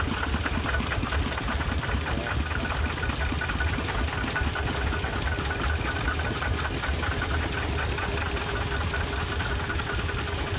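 A Yanmar farm tractor with a 120 engine runs steadily nearby, a continuous rough mechanical chug with knocking pulses and no pauses, with no voices over it.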